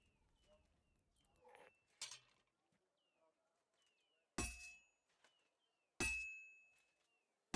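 Metal struck on an anvil at a forge in Kingdom Come Deliverance 2: a few sharp, ringing hammer blows with long metallic decay, set against quiet background chirps and a softer clink early on.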